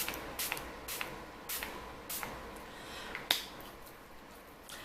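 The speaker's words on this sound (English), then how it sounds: "I will just shake it and just spritz it on my face." MAC Fix Plus setting spray is spritzed from a small travel container in quick, airy hisses, about six short bursts at irregular intervals, close and fairly quiet.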